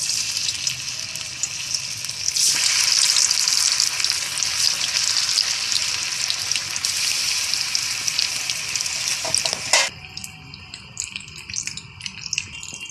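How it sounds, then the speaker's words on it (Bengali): Pieces of taro leaf snack deep-frying in hot oil in a wok, a dense, steady sizzle that swells and then thins out near the end, with no talking. "ভাজার জন্য আমি কড়াইয়ে তেল দিয়ে দেব"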